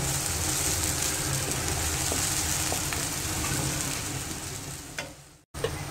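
White onion sautéing in hot oil with garlic and green chili, a steady close sizzle and frying crackle with occasional stirring scrapes, briefly cutting out near the end before resuming.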